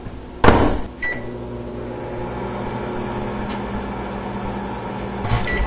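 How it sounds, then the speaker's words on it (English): A microwave oven runs with tin foil inside, humming steadily after a sharp door or button clunk at the start, with a few brief crackling pops scattered through the hum. "I'm going to put some tin foil in here,"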